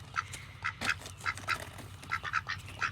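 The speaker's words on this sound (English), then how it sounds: "Look, ducks, look." Ducks quack repeatedly in rain during outdoor bug hunting, with rapid, close, loud calls in irregular bursts over soft background patter.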